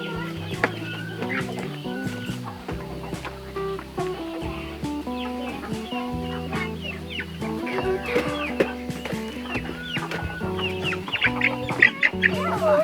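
Homestead turkeys cluck and call in busy, overlapping bursts close by, a steady chorus of poultry noises with no speech.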